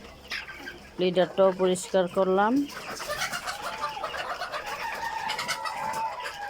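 Hens cluck loudly in a series of close, rhythmic calls at the start, then give way to someone talking over a low murmur of poultry in a farm shed.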